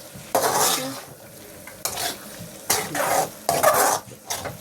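Stirring a Kerala-style beef fry with curry leaves in a pan, bursts of loud scraping and sizzling with each stroke, separated by quieter frying hiss, close and without talk.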